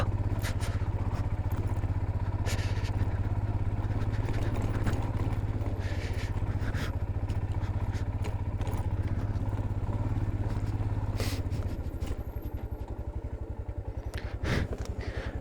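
A motorcycle runs on a winter road in Spiti, Himachal, near Chitkul village, its engine droning steadily and close with a rattling, throbbing note that shifts lower near the end, with no talk.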